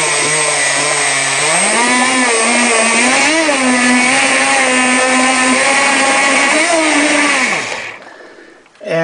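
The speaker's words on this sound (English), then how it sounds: "So we're running current from the controller through 2 motors, a loaded and unloaded matched motor." Two matched electric motors, one loaded and one unloaded, run from a single ESC controller, producing a loud, steady whine that rises and shifts in pitch before winding down and cutting off near the end.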